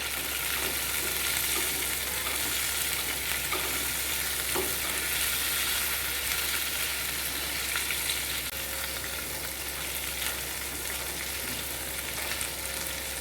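Coriander and cumin seeds roasting in a pan, giving a continuous dry sizzle and crackle with occasional stirring scrapes, steady and close throughout.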